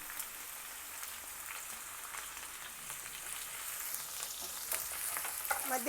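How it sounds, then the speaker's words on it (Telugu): Sliced onions fry in a pan of hot tempering oil with curry leaves, giving a soft, steady sizzle and crackle that grows slightly toward the end. "తాలింపు వేగిన తర్వాత మనం సన్నగా తరిగిన ఉల్లిపాయ ముక్కలు వేయాలి."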